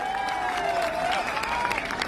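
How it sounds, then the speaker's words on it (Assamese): Applause from a crowd at a Raas festival prize ceremony in Assam, a spread of scattered claps under a sustained tonal hum, heard at moderate distance. "এটা সুন্দৰ হাত চাপৰি হ'ব লাগে"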